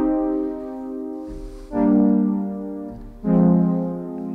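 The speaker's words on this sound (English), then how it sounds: "the short pad, which sounds like this" Short synth pad in the style of Bronski Beat's Smalltown Boy, three stabbed chords with reverb tails, the second and third swelling louder, heard alone.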